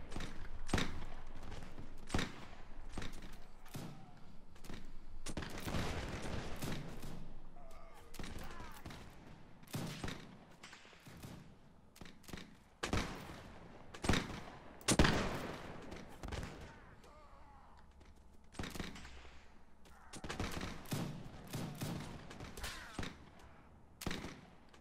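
Repeated gunfire in the Napoleonic-era Mount & Blade L'aigle mod, with sharp musket and rifle shots cracking at irregular intervals, some single and some in quick clusters, across a busy battlefield, near and far.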